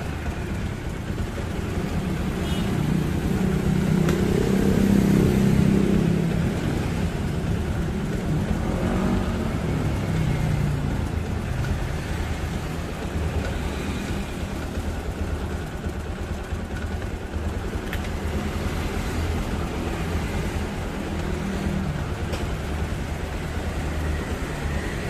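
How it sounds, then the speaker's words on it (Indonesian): A Yamaha Jupiter MX motorcycle engine idles continuously with a steady low rumble, close by and unbroken throughout. "Aman ya, motor bisa hidup."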